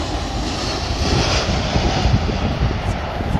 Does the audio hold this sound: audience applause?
no